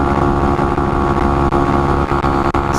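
Honda Monkey motorcycle riding on a Southern California freeway, Highway 210 West, at about 70 mph, giving a loud, steady engine drone with heavy wind rush throughout.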